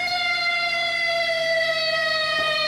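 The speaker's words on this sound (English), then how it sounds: "Sounds like he landed on a siren." A loud, steady wailing siren holds a sustained tone throughout, rich in overtones, with no voices.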